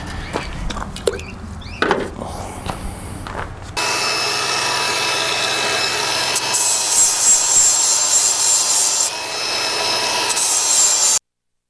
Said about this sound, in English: All the sanding is finished up